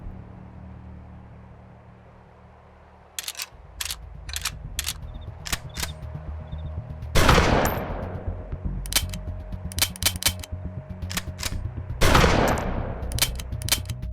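Pump-action shotgun firing and being cycled by hand in DayZ Standalone: two loud, booming blasts, each followed by sharp mechanical clacks of the slide, with quick metallic clicks scattered before and between the shots.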